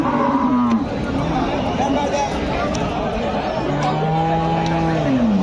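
Friesian dairy cows at a busy Bangladeshi cattle market, two long low moos at the start and end, loud and close over dense crowd chatter and talk.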